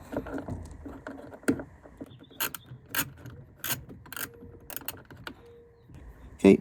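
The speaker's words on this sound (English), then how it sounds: "I'm going to put back these 2 8mm bolts, once again using my 8mm socket and 1/4" drive wrench" An 8mm socket on a 1/4-inch drive ratchet turns bolts while a powered heated mirror is fitted to a 2007-2014 Ford F-150, giving close, crisp clicking bursts in short separate runs with quiet gaps.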